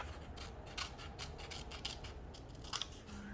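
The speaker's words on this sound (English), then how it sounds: "Turning my paper as I'm cutting." Scissors snip through paper in a quiet room, a run of crisp, close cuts with slight pauses while the sheet is turned between strokes.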